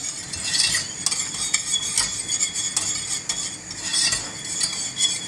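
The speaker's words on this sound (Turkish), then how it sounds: "Artık gördüğünüz gibi kaynamaya başladı." Tomato-style sauce for Mexican burritos bubbling in a pan, with a steady soft simmering hiss and faint clinks of a spoon stirring, rising and falling in loudness, close by with no talking.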